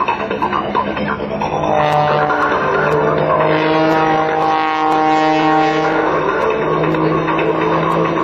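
Aerobatic propeller plane performing a routine at an air show, a loud steady engine drone with rising and falling harmonic pitch as it dives and pulls through manoeuvres, continuous and close throughout.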